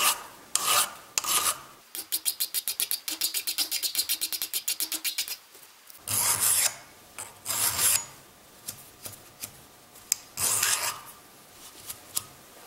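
An old belt sander belt rubbed by hand along the edges of a Harbor Freight rip hammer, giving rapid, rhythmic rasping strokes in close bursts with brief pauses between sets.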